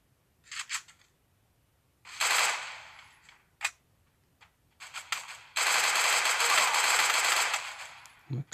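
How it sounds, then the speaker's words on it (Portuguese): Gunfire in the Free Fire video game: several short bursts and single cracks separated by gaps, then a long sustained automatic burst, fairly close and with no talk over it. "O cara tá atirando, errando esse tiro e tirando ponto"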